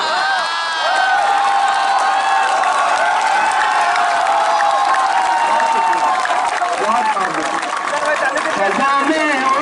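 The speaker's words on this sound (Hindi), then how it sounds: "बस ये तालियों का शोर थोड़ा और बुलंद करे" Large audience at a poetry event at JNU University applauding and cheering loudly, a dense sustained wash of clapping with whoops and shouts rising through it.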